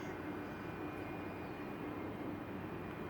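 An E-flite T-28B Trojan RC model airplane flies a touch-and-go on an evening flight, its motor a steady, fairly faint whine and drone holding constant throughout with no talking.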